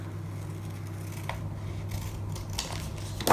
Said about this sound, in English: And then I'm going to just cut across that line.